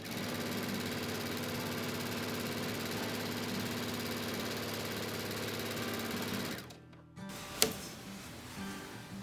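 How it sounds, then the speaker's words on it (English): Sewing machine running steadily while stitching a flat quilt seam on a jelly-roll rail fence quilt, a continuous close mechanical hum that cuts off near the end, followed by a brief sharp click. "with this straight edge, I can just sew right along that flat seam"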